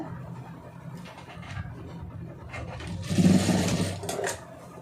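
Sewing machine stitching a plain blouse, with soft handling sounds giving way to a short, louder burst of rapid needle action near the end, close and without talk.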